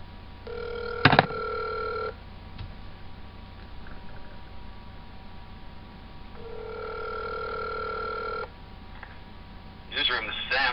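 A telephone in a newsroom rings in repeated electronic bursts, two long trills separated by a pause, with a short clattering handset noise early and a brief chirp near the end.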